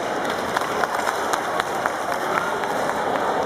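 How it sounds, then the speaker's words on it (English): A crowd applauds a contestant at a One Piece cosplay contest, with steady, dense clapping holding at an even level for the whole stretch and a few sharper claps standing out. "So give her a round of applause, please."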